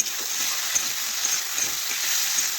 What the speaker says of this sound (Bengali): দেখুন সমস্ত কিছু একসাথে মিশিয়ে আমি বেশ কিছুক্ষণ ধরে আলু একটু কষে নিচ্ছি।